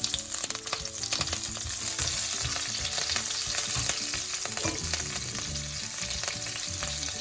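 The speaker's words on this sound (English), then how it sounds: "Once oil get hot, then add dry spices, cumin seeds and cinnamon and cloves" Cumin seeds, cinnamon and cloves sizzle in hot oil for a quinoa pulav, a loud, steady crackling fry with occasional stirring clicks and no talk.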